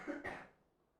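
A student coughs once, a short, sharp burst followed by a quieter trailing rasp in a classroom, faint and alone.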